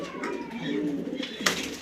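Domestic pigeons kept as breeding pairs coo softly at close range, with low, repeated throaty murmurs and a few brief rustles, under no talk.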